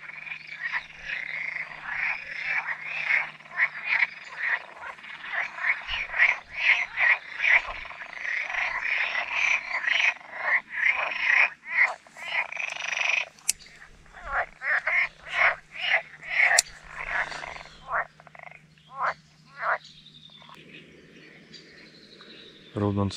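Frogs croaking in a pond, a dense chorus of rapid rhythmic croaks close by with insects trilling underneath, the calls pausing and resuming in bursts, while a voice speaks at times.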